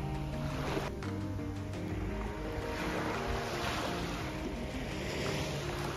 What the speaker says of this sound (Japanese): 波の音を聞いていると癒されます。